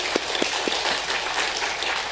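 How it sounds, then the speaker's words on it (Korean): A church congregation at Sunday worship applauds in welcome, a steady, fairly loud wash of many hands clapping with a few sharper claps near the start. "우리 교회에 와주신 한병철 목사님 환영하면서 환영의 박수 함께 하시겠습니다"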